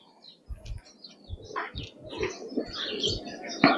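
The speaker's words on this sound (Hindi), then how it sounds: "ये कबूतर है जी गुरुजी" A pigeon cooing softly at a cow shelter, low repeated coos in irregular pulses, with faint chirps and background chatter around it.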